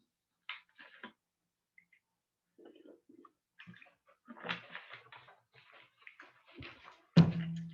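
Sips of water taken during a lecture: sparse, faint gulping, clicks and small handling sounds in a quiet room, ending with a sharp thump like a bottle or cup set down.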